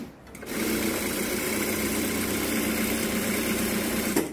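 An EZ-L industrial sewing machine stitching a decorative pattern gives a steady, close whirring hum that starts after a brief pause and runs unbroken for about four seconds, with no talking.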